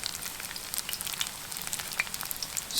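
Food fries in the lid of a spun steel camp oven used as a fry pan, giving a steady, soft, close sizzle dotted with small crackles and pops, with no talking.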